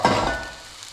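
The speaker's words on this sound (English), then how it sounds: "Give those a bit of a stir in" Spring onions are stirred into sausage, broccoli and kale pasta sizzling in a pan, giving a brief scraping stir over a soft frying hiss that fades quickly.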